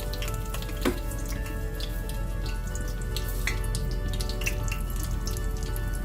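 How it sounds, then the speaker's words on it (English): Curry leaves dropped into a pot of heating oil on the stove for an okra, lentil and tamarind sambar, giving a steady close sizzle with scattered small crackles and pops, without any talking. "I have a pot with some oil that I'm heating up, to which I will add first the curry leaves"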